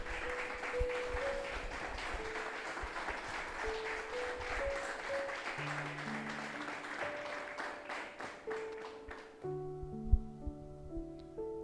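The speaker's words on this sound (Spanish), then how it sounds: "Dale un fuerte aplauso al Señor" A church congregation applauds steadily, moderately distant, while sustained keyboard notes play underneath and a single sharper clap stands out near the end.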